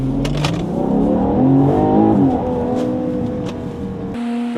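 A Ferrari Purosangue on cold weather tyres pulls away hard from a standing start, the engine note rising and shifting in pitch as it revs, loud and close, then cutting off abruptly.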